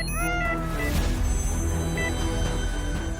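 A kitten meows loudly and insistently, a run of high, strained cries close to the listener over a dense, busy background.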